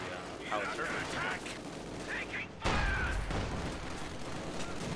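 Howitzer artillery fires in a Company of Heroes 2 battle: a loud, sharp boom strikes near the middle and rumbles on, while scattered gunfire crackles around it and a commentator's voice runs underneath.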